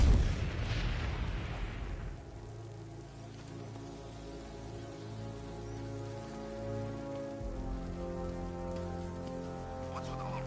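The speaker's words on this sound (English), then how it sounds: "What's with all the rain?" Steady rain falls in a Batman video game, a soft continuous patter behind a low rumbling hum. A louder crash opens the scene and fades within the first two seconds.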